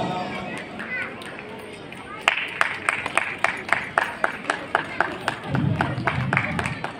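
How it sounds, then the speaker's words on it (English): An audience at a school prize-giving claps steadily for prize-winning students, the sharp, regular claps starting about two seconds in and continuing under a loudspeaker voice and crowd murmur. "Please keep on clapping so that the student get the encouragement."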